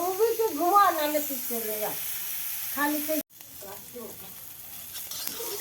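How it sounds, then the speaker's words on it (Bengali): Green peas and carrots fry in a pan with a steady sizzle, with a voice over it for the first few seconds; after a brief cut the quieter frying hiss continues alone. "বিম কড়াই আর গাজরটা ভাজছি"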